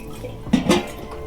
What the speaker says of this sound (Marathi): तर आता भाजी धुवून घेते मी